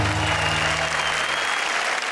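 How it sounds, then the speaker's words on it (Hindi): Loud, dense applause from an audience at a televised Hindi poetry show greets a poet's recitation, a steady unbroken roar of clapping with a faint low hum beneath. "जोरदार तालियां शरद के लिए"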